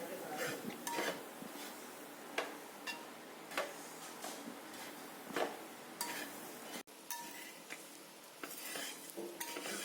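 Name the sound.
stirring chammanthi powder while roasting in a pan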